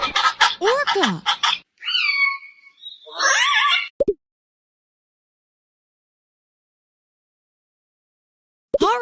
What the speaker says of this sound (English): Orca.